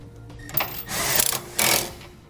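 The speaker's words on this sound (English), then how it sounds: "You'll use a 19mm socket to snug those down." Ratcheting clicks from a 19mm socket wrench snugging down bolts on a Curt trailer hitch receiver, heard as two bursts of quick, close mechanical clicking with brief pauses between.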